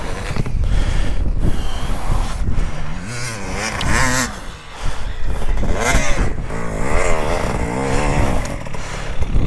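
A dirt bike engine revs hard while free riding off-road, its pitch rising and falling in repeated throttle sweeps, loud and continuous throughout.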